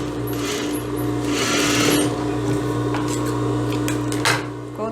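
A sewing machine stitching a seam on a lace (lese) blouse, running steadily and close with a continuous mechanical hum and rapid needle clatter, briefly easing and resuming without any talking.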